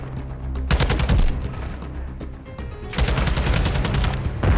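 TAQ-56 rifle fire in Modern Warfare II comes in rapid full-auto bursts, loud and close, with a brief pause between two sustained strings of shots and no talk over them.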